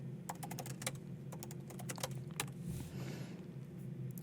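Keystrokes on a computer keyboard while entering a command in a terminal, a quick irregular run of close, moderately loud clicks with a brief pause midway and no voices.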